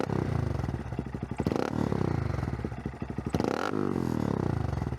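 A 2022 Honda Grom stunt-build motorcycle revs hard and close, its engine climbing and falling in repeated throttle blips with a raspy intake roar, loud and alone throughout.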